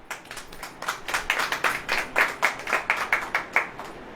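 A church congregation claps together in a steady, rhythmic beat that grows slightly louder and fuller, then tapers off. The sound is fairly close, with no talking over it.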